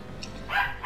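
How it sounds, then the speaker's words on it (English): A dog barks once or twice in a short burst, heard close over a low steady background hum, with no talking during the bark. "Dude, Lucas, it's the dog"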